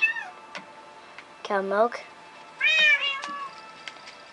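Cats meowing in the video game Minecraft, two clear drawn-out meows spaced apart amid light ticking clicks, with a person talking briefly.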